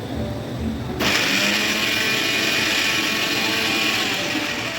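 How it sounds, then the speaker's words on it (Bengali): After a second of quiet kitchen background, an electric mixer grinder starts up abruptly grinding spice paste, then runs as a loud, steady high whine and whirr for the rest of the clip. "তো দেখো এদিকে মশলাটাও করে নিচ্ছি মিক্সিতে"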